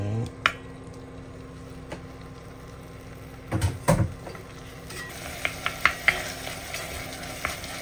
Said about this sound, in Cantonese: 放啲番茄落去爆佢啦， 爆香啲番茄。